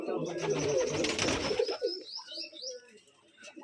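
Rajshahi giribaj pigeons in a loft, with a dense burst of calls and rustling at first, then softer chirps and coos trailing off, close by.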